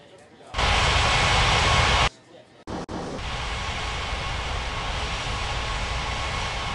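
An airliner jet on runway 27 in the Unmatched Air Traffic Control game for iOS at Bali's Ngurah Rai airport, a loud engine roar that cuts off abruptly, then a steady, softer engine rush.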